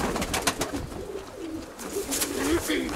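Show pigeons in a loft coo in soft, repeated throaty rolls close by, with fluttering and scattered bird noises around them.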